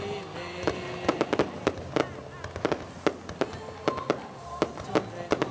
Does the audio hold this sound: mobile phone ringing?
no